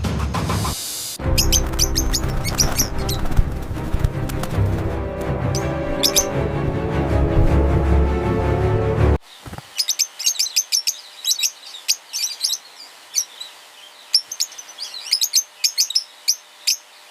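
A young lovebird chirps in rapid, high, repeated tweets, first over a dense rumbling background, then nearly alone in quiet surroundings as bursts of peeping come in quick irregular clusters.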